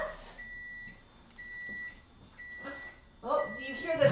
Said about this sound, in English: do you hear the cheerful beeping in the microwave?